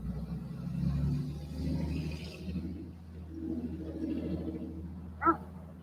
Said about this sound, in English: truck going by.